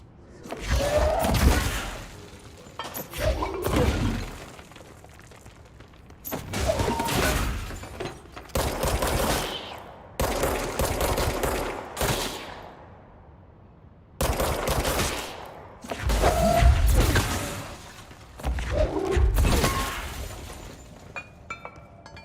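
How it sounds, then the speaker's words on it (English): Pistol gunfire in the video game Control, loud bursts of repeated shots arriving in several clusters with short gaps between them, punctuated by impacts and crashes. "I'm able to use my pistol again, so I'm gonna just shoot everyone"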